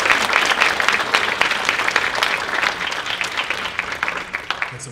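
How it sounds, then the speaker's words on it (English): Leadership conference audience applauding after a speaker, dense sustained clapping from a sizeable crowd that fills the whole stretch at steady loudness. "Let's give Dilawar Syed another round of applause"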